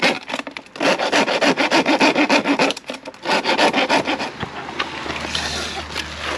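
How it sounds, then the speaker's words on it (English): A hand rasp files the end of a plumbing pipe in quick rhythmic strokes, a dry rasping scrape repeated loud and close, then stops, leaving quieter handling noise. "I'm not sure why I just rasped that"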